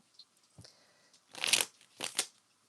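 Playing cards are shuffled up close in a few quick riffling bursts, with short pauses and small taps between them.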